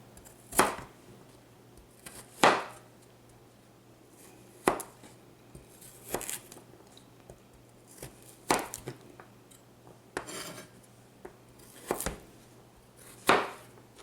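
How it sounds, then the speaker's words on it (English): A knife chopping a small potato into rings, wedges and cubes on a cutting board, about ten crisp separate chops at an irregular slow pace, close and clear with no talk. "I cut this little potato in a, just like little rings, and then I'm going to go back here and wedge them."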